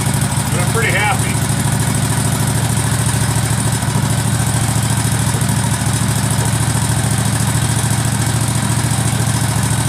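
A Case 446 garden tractor engine running at low idle with no throttle: a loud, steady, close mechanical drone with even pulsing throughout and a brief voice near the start.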